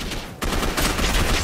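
Submachine gun fire in a Batman-themed action video game, a dense, loud burst of rapid shots that kicks in sharply after a brief quieter moment and keeps rattling steadily.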